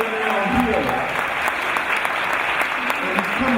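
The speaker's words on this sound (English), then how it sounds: "So give me a round of applause." Sustained applause from an audience at the Masonic Temple in Brooklyn, a dense, even wash of clapping under a voice speaking.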